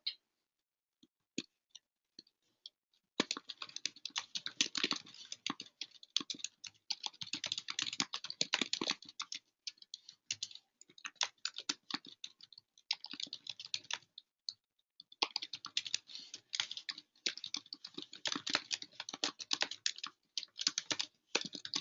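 Fast bursts of typing on a computer keyboard, quiet and close, with a brief pause near the start and another mid-way before rapid key clicks resume.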